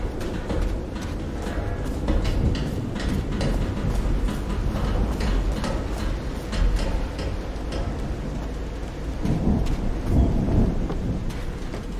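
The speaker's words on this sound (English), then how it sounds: "you can still hear the thunder." Thunder rumbles deep and heavy with steady rain in the game Call of the Sea, a long rolling storm filling the whole stretch without speech.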